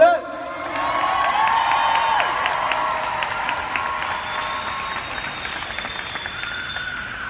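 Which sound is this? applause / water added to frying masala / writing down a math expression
applause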